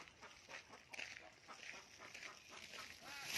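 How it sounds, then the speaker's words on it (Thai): Ducks quacking in a scattered series of short calls at moderate distance, with faint background noise throughout. "ดูน้องเป็ด น้องเป็ด"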